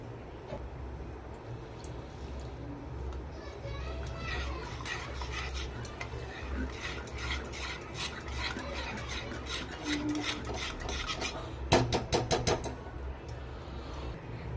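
Semolina and yogurt dhokla batter is whisked in a bowl with a little water, making light, continuous scraping and clinking that ends in a brief burst of rapid utensil taps.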